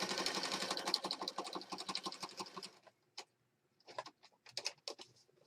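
Sewing machine stitching through a junk journal wrap cover, a dense run of rapid needle clatter for nearly three seconds, then a pause and shorter stop-start bursts of stitching, close and fairly quiet.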